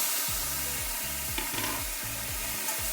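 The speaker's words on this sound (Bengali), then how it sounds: "এখনই দিয়ে দেবো এই যে মাছগুলো, সমস্ত মাছগুলো একটু ভেজে নেব" Prawns frying in hot oil for Bengali chingri bhapa, a steady, close hiss of sizzling with a faint repeating pulse from stirring.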